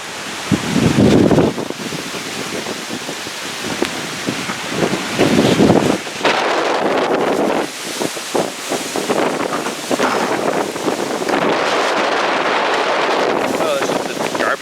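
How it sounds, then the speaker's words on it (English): Strong gusting wind in a residential neighborhood roars and buffets the microphone with a loud, continuous rush, while a person talks over it throughout. "It's just crazy windy."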